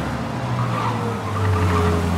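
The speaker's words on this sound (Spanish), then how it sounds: "Ay, qué complicado es manejar este coche." A car in Mafia: Definitive Edition revs its engine and skids, with a steady engine drone and a rising tire squeal.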